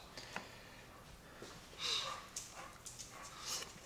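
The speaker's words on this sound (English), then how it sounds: "You can tell I have a dog that knows there's food in the house." Dog in a house where pork ribs are being cooked, whimpering softly in short high whines with brief sniffs and snorts between them, faint and close, with some quiet background sounds.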